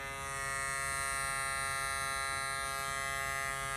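A Suprent FANGS hair clipper with a vector motor runs at 13,000 RPM, giving a steady, loud electric buzz with a high whine that holds unbroken for several seconds, close by and with no talk.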